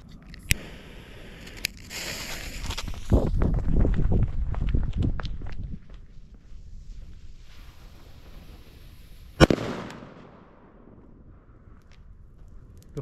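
An FP3 firecracker goes off with a single sharp, loud bang. Shuffling, crunching movement and a few small knocks come before it, and quiet follows.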